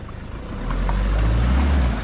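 A Toyota Fortuner 4x4 struggles through deep water, its engine a low, heavy rumble that swells and holds strong with sloshing water around it, close and loud with no voices.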